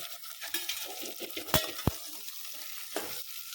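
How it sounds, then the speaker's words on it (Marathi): Washed cauliflower goes into a pan with tomatoes for gobi rice and is stirred, giving a soft frying sizzle under scraping strokes, with two sharp metallic clanks of the spoon against the pan midway. "आता आपण गोबी टाकू गोबी धुतलेली आहे"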